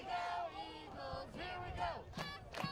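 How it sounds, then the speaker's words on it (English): A college football crowd in the stands chants "Here we go, Eagles" in loud, rhythmic massed voices, with whoops rising over the steady roar of the crowd. "So the crowd starting to chant, "Here we go, Eagles.""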